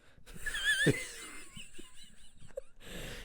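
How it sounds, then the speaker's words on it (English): A person sleeping during a podcast recording lets out a brief wheezing snore, close and fairly quiet, with a few softer breathy sounds following. "I look over and you're snoring again"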